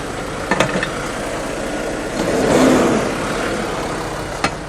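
A semi truck's engine is briefly revved with light throttle beside its trailer to keep the idle shutdown from kicking in. The engine swells gently and then settles over a steady outdoor rumble, with a few faint clicks.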